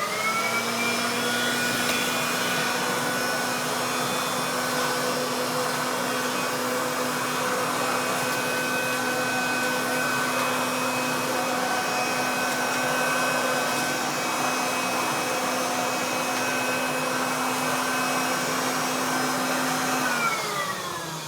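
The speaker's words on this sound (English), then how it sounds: "Yep, it's my Kirby Classic 3. Using its hose mode." A Kirby Classic 3 vacuum cleaner runs in hose mode with a constant, loud motor whine holding a steady pitch throughout, then starts to drop in pitch as it begins winding down.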